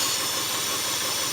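A four-cylinder engine runs rough on only two cylinders with two injectors disconnected, giving a loud, steady, close-up roar and hiss with no talking.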